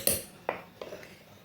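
A spoon clinks and scrapes three times against a bowl while salt is mixed into dough for a spiced fried snack, the strokes short and close, then it trails off quietly.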